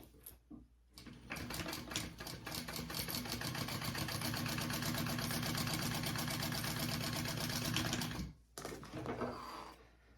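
Sewing machine basting the bottom of a tote bag, starting with a short burst, then a fast, steady needle chatter running for about seven seconds before stopping, followed by a few quiet clicks; close and moderately quiet.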